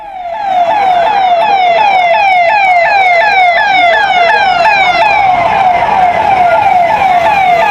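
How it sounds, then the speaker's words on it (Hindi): A police car siren wails continuously in a rapid, repeating up-and-down yelp, loud and close, with faint rumble of a following vehicle convoy beneath. "पुलिस की गाड़ी के पीछे जो गाड़ियां जा रही हैं"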